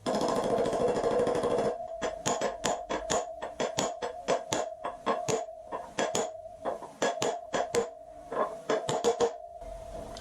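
Repeated sharp metallic hammer strikes on a socket ring out close by, driving a wheel bearing into a 2009 Harley-Davidson Street Glide with ABS, coming in uneven bursts of quick blows with brief pauses between them.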